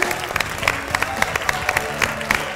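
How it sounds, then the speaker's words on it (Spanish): Audience clapping at a comedy show's closing credits, a steady patter of hands from a sizable crowd with a voice speaking over it. "Fuerte, fuerte el aplauso, fuerte para ellos"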